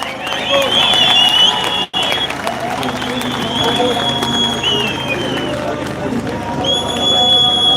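A live crowd at a Waterford gig cheers and applauds in a dense, steady roar of clapping and shouting that fills the whole stretch, with only a brief dropout near the start.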